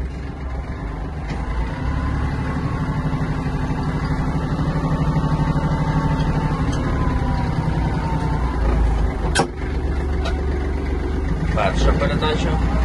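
Kubota GL-260 Japanese mini tractor pulling away in first gear, its engine a steady, close, continuous drone with a slight rise in pitch as it moves off.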